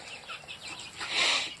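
Young backyard chicks in a small coop made from a converted storage shed give soft, close cheeping and clucking calls. The calls come in a short burst that swells louder near the end.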